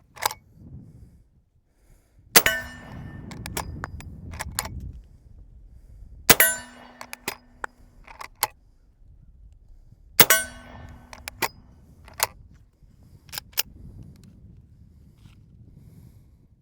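Henry rifle lever and toggle action worked by hand, giving three sharp metallic clacks a few seconds apart, each followed by a short ringing tail, then softer clicks of cartridges being slid in one at a time.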